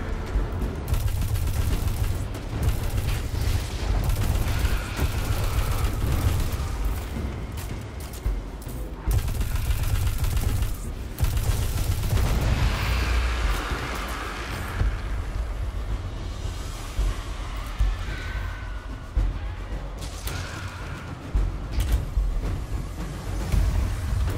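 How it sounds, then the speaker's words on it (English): Grenade launcher explosions in the Destiny 2 shooter game on PC boom and rumble amid a dense, loud, continuous barrage of gunfire that swells and dips with brief gaps. "shoot you with a frickin' grenade launcher"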